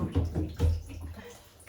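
A pet groomer's brush is dipped into a pot of water, giving a few close sloshing splashes with low watery swirling in between.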